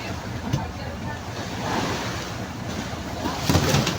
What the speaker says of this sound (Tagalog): ang alon banda southwest, tapos ang hangin nasa bandang northeast